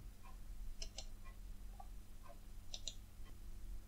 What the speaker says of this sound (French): C'est de faire un clic droit sur le fichier, de choisir Copier,